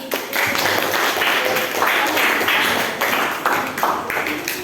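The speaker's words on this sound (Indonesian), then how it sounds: "Oke, tepuk tangan." Steady applause from a group of students in a classroom, continuous clapping that fills the room for several seconds.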